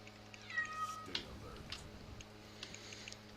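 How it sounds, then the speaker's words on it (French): A small house cat meows close by indoors, a couple of short cries standing out over a quiet background hum. "Juste un petit chat, c'est mignon."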